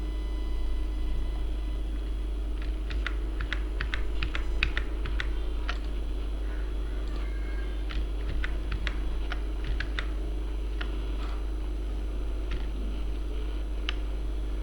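Rapid clicking of keys on a computer keyboard while entering dates in an Excel spreadsheet, close and steady in irregular bursts over a constant low electrical hum.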